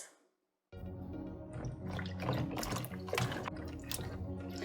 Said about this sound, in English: you want to wash the okra cleanly